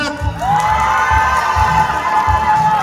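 Fans at a Korean culture and arts awards ceremony cheer and scream for a singer, a loud sustained crowd roar with high shrieks and whoops over low thumping.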